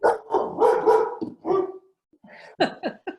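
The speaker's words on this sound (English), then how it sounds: "Whose dog is that?" A dog barks in a quick burst of several loud, close barks, pauses, then adds a few shorter yips, with no talking over it.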